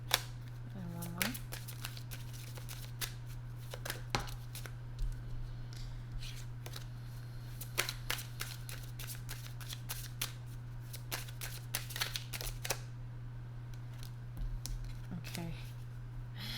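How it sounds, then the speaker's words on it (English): Tarot cards shuffled by hand in a quiet room, a stream of quick soft riffling and slapping clicks at close range, with a steady low hum underneath and faint talk. "I'm going to keep shuffling until you do."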